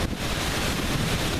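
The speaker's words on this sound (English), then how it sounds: "Now the wind is blowing, it's pulling, being pulled that way." Wind blowing outdoors, a brief, steady rush of moderately loud rumbling noise against the microphone, with no voices.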